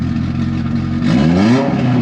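A Mitsubishi Lancer Evolution engine, rough and idling at first, is revved once with a rising then falling pitch, loud and close.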